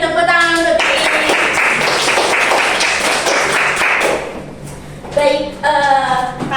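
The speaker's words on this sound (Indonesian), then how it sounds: "Beri tepuk tangan untuk Iin." A classroom of students breaks into a burst of hand clapping for a classmate during a micro-teaching lesson, lasting a few seconds, with a voice talking just before and after.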